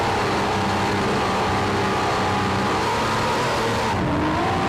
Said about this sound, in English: Following the pace boat, engines revving up as you can hear them.